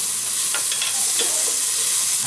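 Vegetables sweat in a pot for bean soup and are stirred the whole time, a steady broadband sizzle with soft scraping strokes near the start and middle, close and even throughout with no talk.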